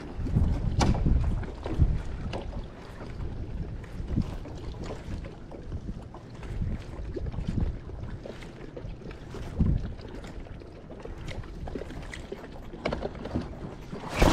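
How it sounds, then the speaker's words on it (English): An electric trolling motor drives a fishing boat across open water, its low hum mixed with steady wind buffeting and water wash. It runs continuously and fairly close for the whole stretch. "go use the trolling motor to get us back in there"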